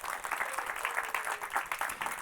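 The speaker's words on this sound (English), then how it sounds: "So give him a round of applause." A literary festival audience at a panel discussion in Umeå applauds a guest with soft, steady, fairly distant clapping that rises and falls slightly over a couple of seconds.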